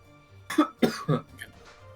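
A person coughs several times in quick succession, three sharp close bursts followed by a smaller one, over a quiet background hum during a tabletop role-playing session.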